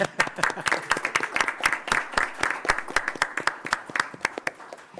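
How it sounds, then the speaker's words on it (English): An audience at a township council meeting claps steadily for a few seconds, a dense burst of close hand claps that carries on evenly with no talking over it. "We can clap."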